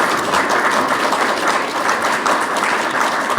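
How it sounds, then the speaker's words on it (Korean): An audience at a seminar on the crisis facing Korean rural and farming communities breaks into dense, continuous applause, a steady clatter of many hands clapping at once for the whole span. "우리 최승재 의원한테 이제 큰 박수 좀 한번 주시기 바랍니다."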